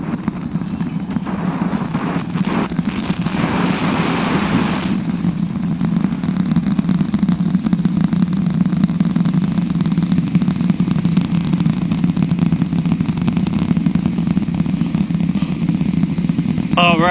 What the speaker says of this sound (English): 30 seconds into flight, the rumbles are still building here.